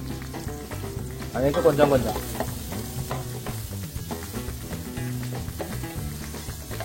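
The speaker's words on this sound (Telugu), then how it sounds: "ఉల్లిగడ్డ వేగే వరకు మంచిగా కలుపుకోండి" Chopped onions frying in hot oil in a pan while being stirred, a steady close sizzle with spoon scrapes and a louder burst early on, and someone speaks briefly over it.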